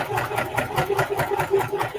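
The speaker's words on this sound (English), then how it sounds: "right now I am sewing the pocket to the panel" A sewing machine stitches a pocket onto a fabric panel of a patchwork duffle bag, running in a steady, rapid mechanical rhythm close by with no talk.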